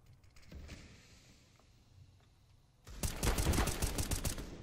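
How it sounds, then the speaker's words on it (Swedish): Gunfire from the video game CS:GO: after a quiet stretch of faint game ambience, a loud rapid burst of automatic shots breaks out and continues to the end. "Jag sköt typ 4 skott igen, men han dog inte först."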